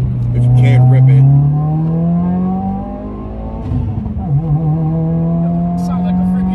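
Subaru WRX with over 300 hp, engine revving with a rising, droning exhaust note that dips and climbs again, loud and close, with people talking over it.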